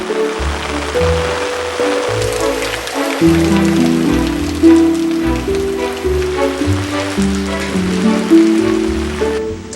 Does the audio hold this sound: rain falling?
yes